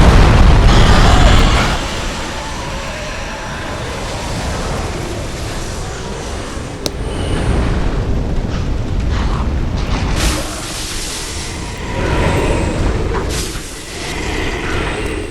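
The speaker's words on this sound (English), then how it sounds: "a dragon breathes fire on you" A dragon breathing fire in Dark Souls 3 at the High Wall of Lothric, a loud, sustained roaring whoosh of flame that surges and swells in several waves over about fifteen seconds, close and dominant.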